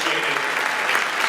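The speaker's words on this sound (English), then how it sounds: "So could you give my wife a big round of applause?" A concert audience gives a short burst of dense, even applause that sounds full and close.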